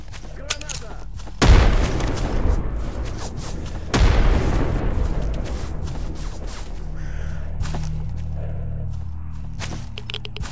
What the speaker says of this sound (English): I'm throwing a frag.